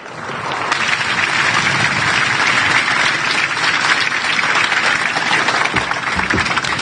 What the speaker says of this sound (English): Ladies and gentlemen, please join me in a warm round of applause for the Honorable Gabe Camarillo